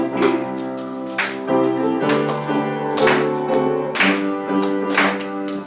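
A church congregation claps along roughly once a second while singing hymn 91 at a Korean Palm Sunday service, the claps steady beneath full sung melody.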